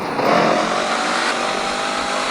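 A motorbike engine in the video game Indian Bike Driving 3D, a loud steady revving drone that swells briefly near the start and then holds, with no talking.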